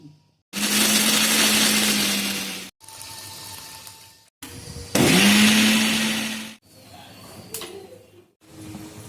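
A kitchen mixer grinder whirs through coconut and peanuts for chutney in loud, steady bursts, each starting abruptly and stopping dead, with short pauses and quieter gaps between runs.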